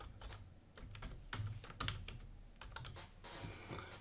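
Steady computer keyboard typing as a name is entered into a spreadsheet's name box, a quiet run of crisp, irregular key clicks heard alone and close.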